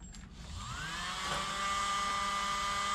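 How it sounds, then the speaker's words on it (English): A tiny electric leaf blower, used in fluid paint pouring, whirs up to a high-pitched steady whine that stays loud and close, with a rising tonal sweep as it reaches full speed. "plug in the little leaf blower"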